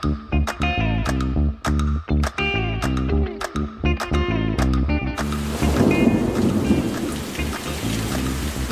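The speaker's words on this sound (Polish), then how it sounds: "od czasu do czasu pada oraz grzmi" Thunder and rain over a large city: a steady rushing downpour with deep rumbles, following a stretch of loud, rhythmic, tonal thumps.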